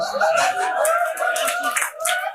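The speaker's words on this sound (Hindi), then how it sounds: "जोरदार तालियां" An audience at a prize announcement applauds steadily, a dense patter of clapping that continues throughout with a few scattered chuckles mixed in.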